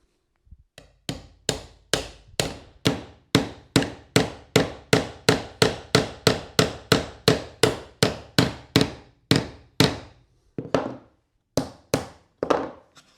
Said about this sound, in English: I'm going to try to cheat and just hammer it this way